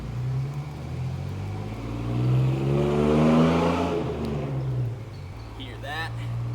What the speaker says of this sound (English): That's the sound of a man's vehicle.